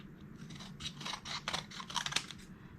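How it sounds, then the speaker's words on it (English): Scissors trim excess paper from a die-cut card piece, a run of quick close snips and crisp cuts in an uneven rhythm with soft rustling between them. "Get my scissors, trim off any excess."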